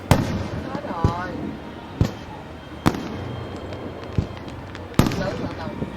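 Fireworks bursting over Saigon during a celebration: sharp, loud booms spaced about a second apart, each followed by crackling and whistling, with an excited crowd murmuring and voices talking throughout.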